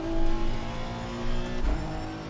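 A Honda NSX Evo race car in a racing video game at Mount Panorama, its engine droning steadily as another car closes in and passes nearby.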